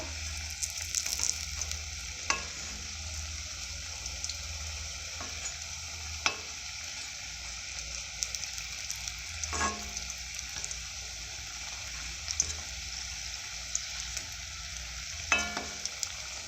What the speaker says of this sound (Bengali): এইভাবে ভালো করে ভেজে নেব আপনার এরম লাল লাল করে ভেজে তুলে নেবে